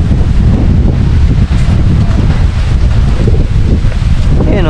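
Strong wind buffets a microphone outdoors during a pigeon derby race, a constant heavy roaring rumble that fills the whole stretch without letup.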